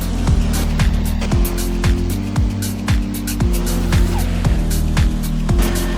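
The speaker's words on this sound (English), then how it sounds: "I swear I heard a turbo sound." Engine of a Celine supercar driven in the Roblox racing game Midnight Chasers, repeatedly revving up and shifting through gears with stepped pitch rises and a turbo-style whoosh, loud and steady with no talk.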